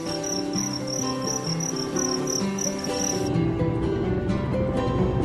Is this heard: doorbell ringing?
no